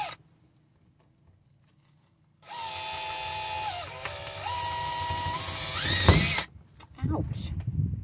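A power drill drives screws into a new screen door on a cargo trailer, its motor whining for about four seconds, rising and dipping in pitch, with a clatter near the end.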